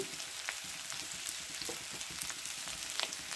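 Green chillies and curry leaves frying in hot oil for a chickpea-bean pakora curry, a steady dense sizzle with crackling pops and a few soft stirring knocks throughout.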